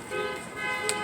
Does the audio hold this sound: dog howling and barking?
no